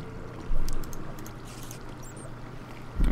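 Minecraft water bucket being emptied, a soft watery pour in the game, followed by a short louder splash near the end over faint background.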